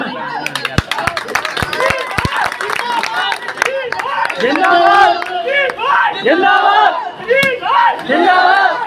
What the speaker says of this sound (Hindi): यासीन अलवी साहब के लिए जोड़े ताली